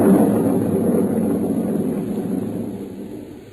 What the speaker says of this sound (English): There was thunder and lightning around me too